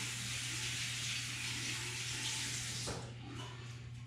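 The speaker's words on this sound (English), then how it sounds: "So I've got some activated charcoal in my fingers and stuff. I'm gonna wash that off." Tap water runs steadily into a sink as activated charcoal is rinsed off fingers, a close continuous splash that softens and thins out near the end.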